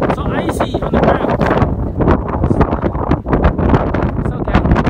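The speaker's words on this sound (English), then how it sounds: "this windy and cold" Cold, icy wind buffets the microphone outdoors in a continuous loud roar with gusty bursts, and voices come through underneath.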